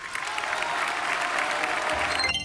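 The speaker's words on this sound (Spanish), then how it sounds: "los legisladores oficialistas y las barras aplaudiendo" Legislators and supporters in a legislative chamber keep up steady applause, a dense continuous clatter of many hands without pause.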